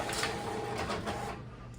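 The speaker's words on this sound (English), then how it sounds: "we are just gonna let the printer do its thing" Home printer running a job printing homeschool lesson planner pages, a close steady mechanical whir with rhythmic paper-feed swishes and clicks, heard alone without talk.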